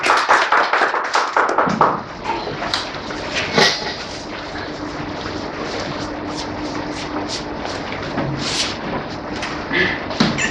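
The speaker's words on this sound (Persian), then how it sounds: "تشویقشون بفرمایید" An audience at a poetry gathering applauds a young poet with a sustained patter of clapping, loud at first and then continuing at a steady level throughout.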